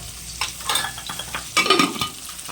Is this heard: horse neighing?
no